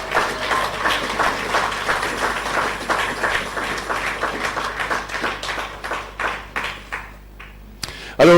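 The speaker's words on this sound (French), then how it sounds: "Est-ce qu'on peut applaudir le Seigneur?" Church congregation applauding the Lord during a French-language sermon, steady dense clapping from many hands that thins into scattered claps near the end before a louder burst cuts in.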